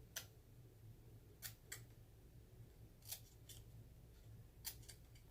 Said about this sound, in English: And just cut.